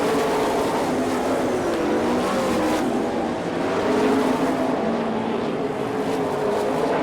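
Sprint cars race around a dirt oval at a Bloomington, Indiana All Star Circuit of Champions event, engines blending into a dense, continuous roar that swells slightly as the pack passes.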